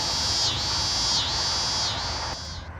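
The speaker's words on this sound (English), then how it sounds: "The cicadas stopped as nightfall came" Cicadas at a KOA campground drone in a loud, steady high-pitched buzz that swells and dips in three rhythmic pulses, then fades slightly near the end.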